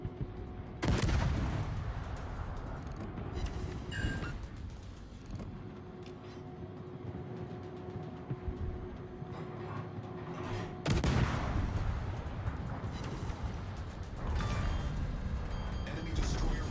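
Naval guns on warships boom in World of Warships, two heavy broadband blasts landing about ten seconds apart over a constant bed of engine rumble and tonal game background.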